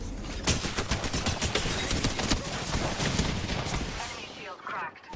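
Rapid gunfire in a battle royale video game: dense bursts of automatic shots crackle for several seconds, loud and close, then taper off near the end.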